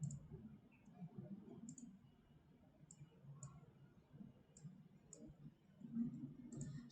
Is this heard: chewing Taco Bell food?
no